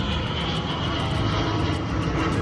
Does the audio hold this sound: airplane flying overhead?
yes